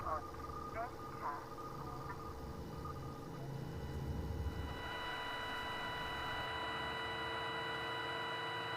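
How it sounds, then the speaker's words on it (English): Steady broadband static hiss in the video game SIGNALIS, rising and filling out after a few seconds with tonal hum lines, continuing unbroken beneath earlier faint game sounds. "A lot of white noise."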